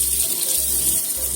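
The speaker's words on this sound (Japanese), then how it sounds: "もう一度洗いますよ。" Myoga ginger rinsed under a running kitchen tap, with a steady, close rush of water throughout and no talking.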